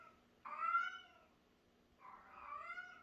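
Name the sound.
pregnant foster cat meowing loudly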